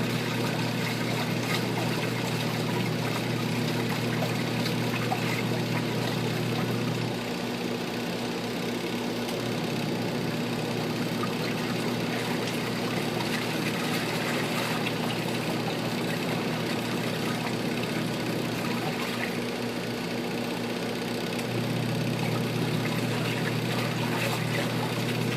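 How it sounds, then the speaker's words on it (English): A Panda portable washing machine drains and spins, giving a steady motor hum with a broad whooshing wash of noise and a couple of brief shifts in tone, continuous and fairly close. "show you the draining process and the spinning"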